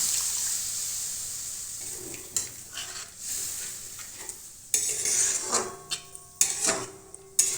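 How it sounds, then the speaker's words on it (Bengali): Hot water goes into a bubbling potato, carrot and pea curry in oil, starting with a steady hiss that fades, then close stirring scrapes and sharp sizzling bursts. "তাই দিয়ে দিচ্ছি একটু গরম জল"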